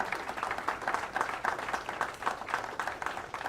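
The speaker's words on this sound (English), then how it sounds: "so a big applause for Graham." Applause at a snooker league finals day, a crowd clapping steadily and moderately close for a few seconds with no talk over it.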